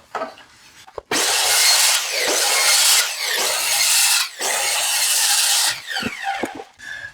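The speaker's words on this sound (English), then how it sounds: "And we'll take the trusty skill saw and cut the rest of it out." A circular skill saw cuts through cabinet wood in several loud, sustained bursts with brief pauses between passes, ending with a few short trimming cuts and clatter.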